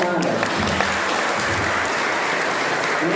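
Dense audience applause rings out at a martial arts association gathering, a loud, continuous roar of many hands clapping that holds steady with voices mixed in beneath it.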